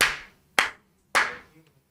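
Hands clap three times, each sharp clap evenly spaced about half a second apart and ringing briefly in a quiet room, with no talking.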